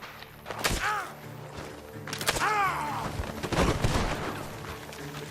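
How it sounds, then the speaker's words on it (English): Gunfire in the Western video game Red Dead Redemption 2 near Saint Denis: a few sharp, echoing shots in separate bursts, mid-distance, over a low game ambience with a voice heard. "The gunshots are coming from that barn."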